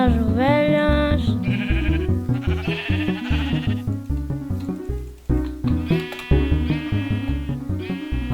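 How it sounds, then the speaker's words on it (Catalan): Minecraft sheep bleat in a Build Battle game, a rapid string of loud, wavering bleats, some overlapping, with short gaps between calls. "Les ovelles pasturant."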